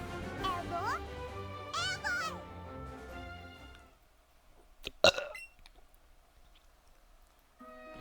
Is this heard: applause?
no